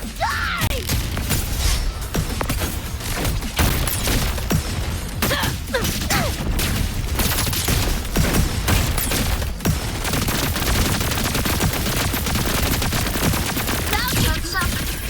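Video game combat, dense rapid gunfire and bursts mixed with grenade explosions, a relentless crackling barrage with sharp transients throughout, loud and close, with occasional shouted voices over it.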